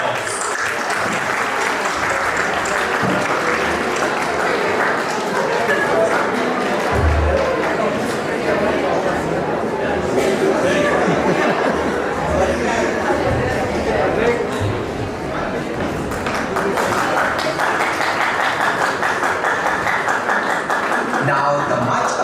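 Audience applause at a school Model UN award ceremony in a college hall, sustained clapping from a large crowd with scattered chatter and an announcer's voice over parts of it.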